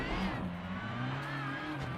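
Ford Sierra RS500 race car engine from a sim racing video game, a steady close drone with shifting harmonic pitch as the revs rise and fall, heard alone for two seconds.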